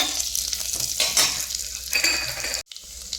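Cumin seeds and dried chillies sizzle and crackle in two spoons of hot ghee in a pan, with light stirring and a brief metallic clink; close and moderate, no talking.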